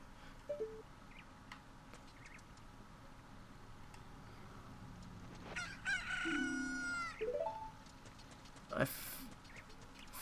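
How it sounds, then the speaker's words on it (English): A chicken in Ocarina of Time clucks and crows over a low game ambience, with a rising cock-a-doodle-doo in the middle and scattered short clucks before and after, fairly faint overall. "Look, a chicken hatched from the egg."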